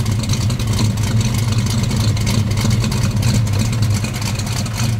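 A 1967 Plymouth Barracuda engine runs at a loud, rough idle close by, a deep, throbbing rumble with slight surges in revs.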